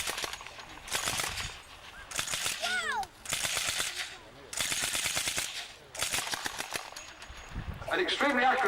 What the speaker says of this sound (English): So Brno, a standard section light machine gun, 303 caliber, the same rounds as the Enfield rifle.